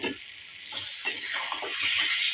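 Potatoes fry in a pan for egg biryani with a steady, close hissing sizzle, broken by soft scraping stirs, and no one speaks.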